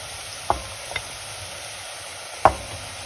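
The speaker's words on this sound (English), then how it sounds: "We're still on a high heat because we want to brown the beef." Ground beef browning with pancetta and vegetables in a pan over high heat gives a steady, low sizzling hiss, broken by two sharp scrapes or knocks of a utensil, one early and one near the end.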